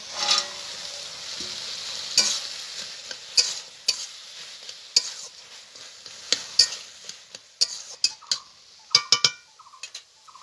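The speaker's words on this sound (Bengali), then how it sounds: "এখন আমি ভেজে রাখা সয়াবিনটা দিয়ে দেবো" Fried soybeans are tipped into a frying pan tempered with cumin and green chili for a vegetarian taro-leaf dish, giving a soft hiss of sizzling oil broken by sharp clicks and scrapes of a spatula stirring, growing busier toward the end.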